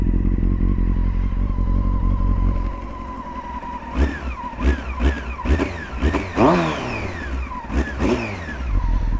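A Honda CBR 600 F sport motorcycle engine with 90,000 km idles close by, then is revved repeatedly in sharp bursts, each rising roar falling back toward idle.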